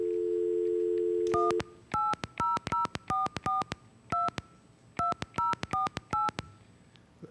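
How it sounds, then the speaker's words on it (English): Touch-tone keypad dialing an 800 number on a telephone: a steady dial tone at the start, then about fifteen crisp DTMF beeps in quick irregular groups, close and clear, with no voices. "So we're going to call an 800 number, try to get through to an operator"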